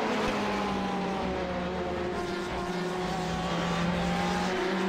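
Race cars driving on a racetrack, their engines producing a continuous loud roar with shifting engine tones throughout, with no speech.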